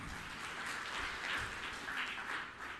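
Faint, distant applause from a church congregation during a sermon, a soft, even patter of many hands clapping throughout a short stretch.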